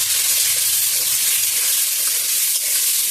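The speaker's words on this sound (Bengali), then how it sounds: "এবার আলুগুলো লাল লাল করে ভেজে নেব।" Potatoes seasoned with turmeric and salt fry in a pan, sending up a loud, dense, continuous sizzle and hiss that runs without a break and carries no speech.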